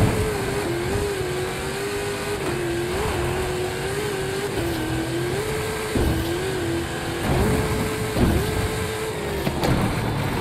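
Race car engine in the video game Forza Horizon 5 revs steadily and loudly throughout, its pitch rising and dipping with repeated gear shifts and throttle blips, close and unbroken with no talk over it.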